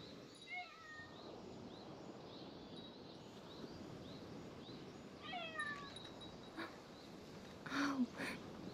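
Several short cat meows from the video game Summer Lesson, soft and scattered over a steady ambient backdrop, with a slightly louder cry near the end.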